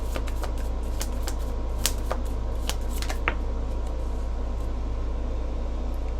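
Tarot cards being shuffled, with a run of crisp riffling flicks and snaps over the first few seconds, then easing off into a steady low hum for the rest.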